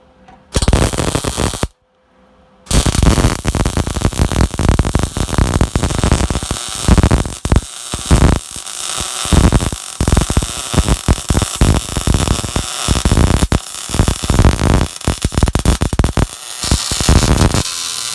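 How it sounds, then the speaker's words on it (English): MIG welding of steel floor plates into a Mustang roll cage, loud crackling buzzing bursts in repeated short and long runs separated by brief pauses, close and harsh. "Welding these plates on the floor."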